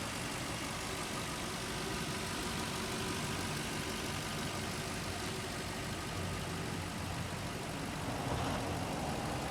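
A high-mileage 2003 Lexus LS430 engine idles steadily and quietly with the hood open, a smooth low hum held evenly throughout with no talking.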